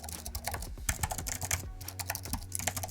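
Rapid, uneven clicking of keys on a 2021 iMac keyboard, close and moderately quiet, with no voices.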